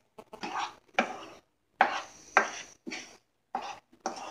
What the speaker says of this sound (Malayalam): ഇനി ഇതുപോലെ ഇതൊന്നിങ്ങനെ ഇളക്കി യോജിപ്പിക്കുക